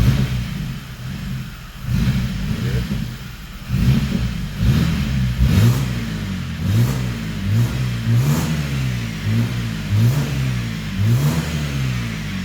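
A BMW E90 320i with the N46 B20B four-cylinder, smoking under load, revs repeatedly from idle in a steady series of rising and falling blips, loud and close with no talk.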